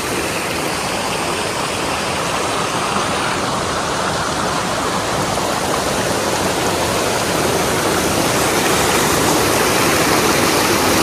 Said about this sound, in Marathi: मागे बघा कसा आवाज येतोय पाण्याचा.